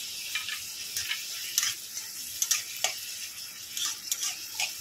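Two green chillies fry in a pan, giving a steady hiss of sizzling oil dotted with small crackles and pops, close and moderately quiet, with no voices.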